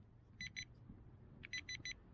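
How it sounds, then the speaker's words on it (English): Two short electronic beeps from a JJRC H66 mini drone controller, a pause, then three quick beeps in a row, high-pitched and clear over a low background hum. "3 beeps, setting it to high rates."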